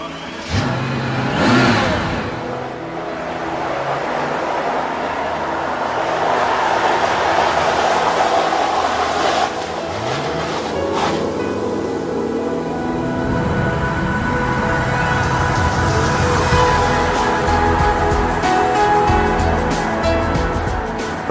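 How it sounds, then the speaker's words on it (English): A Mercedes-Benz S-Class W220 with a 500 hp bi-turbo V12 pulls away and keeps driving, its engine note rising and holding steady at close range for about twenty seconds, with no talking. "this glorious 12-cylinder, which I'm going to drive right now"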